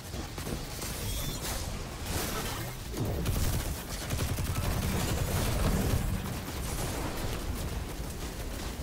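Dense, continuous gunfire from the Destiny 2 video game, with rapid bursts and booming impacts layered into a loud, sustained barrage across the whole stretch.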